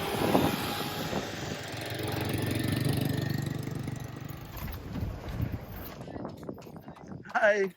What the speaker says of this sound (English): tourists can take these horse and carriages